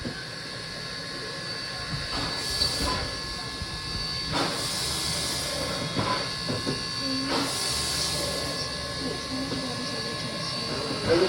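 A steam train on the Connecticut Valley line vents steam in a loud, continuous hiss with a few stronger bursts, while people talk nearby.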